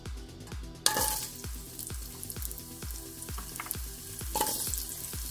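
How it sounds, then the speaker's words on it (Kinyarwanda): Carrots fry in hot oil with a continuous crackling sizzle, broken by regular scraping stirs that recur about every half second, close and fairly loud, with no voices. "Amavuta amaze gushya, ndabanzamo karoti kugira ngo zibanze zishyeho."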